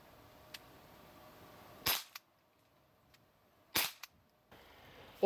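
Pellet pistol fired at a water bottle from 5 metres: two sharp, loud isolated cracks separated by near-silence, each followed by a faint brief tick, with a third sharp onset cut off at the end over a quiet outdoor background.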